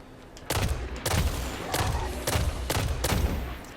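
A weapon fires in the video game Destiny: about eight sharp, punchy shots in quick single-tapped succession, loud and close, with a brief tail after each.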